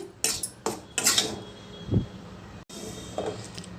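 Metal pots and utensils clatter and clink in a home kitchen as roasted rice flour is moved into a vessel, a few sharp knocks and scrapes spread over the moment with brief quiet gaps.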